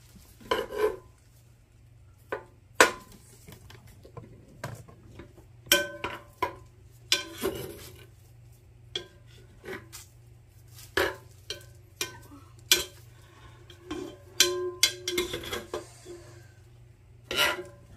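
Metal spoon stirring marshmallows melting in a pot, with scraping and clinking strokes in an irregular rhythm, close and moderately loud, with no talk.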